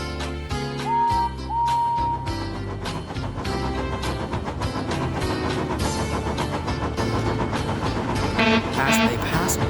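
A heavy train of rail cars rumbles steadily down the line with rhythmic clickety-clack and a couple of whistle toots near the start, loud and continuous, with music and voices mixed in.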